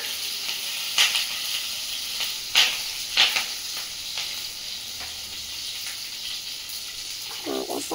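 Cumin seeds sizzling in hot oil with a little water in the pan: a steady, moderately loud frying hiss with a few sharp spits and pops scattered through it.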